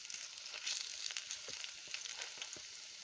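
Cabbage pakoras fry in hot oil with a quiet, steady bubbling sizzle and faint crackles, heard close with no voices.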